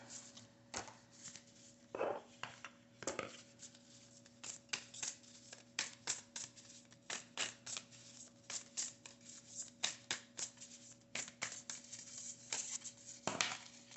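A deck of oracle cards is shuffled by hand, a long run of soft, quick riffling and slapping bursts that continue steadily and close by, with no talk.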